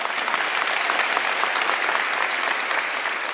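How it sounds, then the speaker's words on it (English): An audience at a university spring graduation ceremony claps in sustained, dense applause, steady and fairly loud from start to finish with no pauses. "Can I request that we give her a round of applause?"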